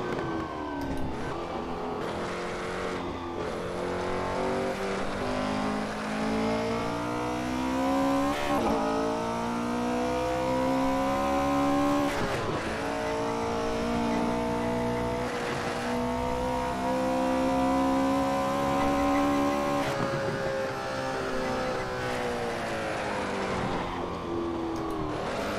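Engine of a 1968 Porsche 908 LH racing around the Nürburgring, a loud, close, sustained howl that climbs through the revs and drops sharply at each gear change, repeating over and over along the lap.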